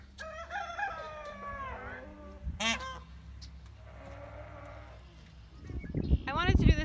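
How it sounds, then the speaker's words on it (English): Peacocks at a foggy homestead pond give several loud, wailing calls: a long cry at the start, a sharp burst midway, and another strong call near the end. "I love their peacock sounds."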